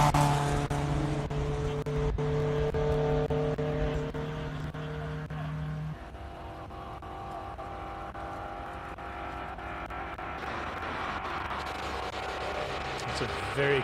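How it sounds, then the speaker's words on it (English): A Fiat 131 Abarth rally car climbs a hillclimb course, its engine droning steadily at a distance before the note fades and shifts, while a commentator talks over it throughout. "This is the Francis Cousins, the 131 Abarth Rally."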